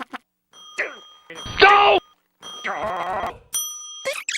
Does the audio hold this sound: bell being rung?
yes